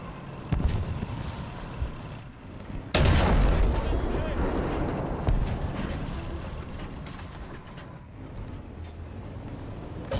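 Game gunfire and artillery in a match where Allied forces capture a zone: repeated shots and heavy booming blasts, loud and dense, with a big burst of firing about a third of the way in and sustained rumble after.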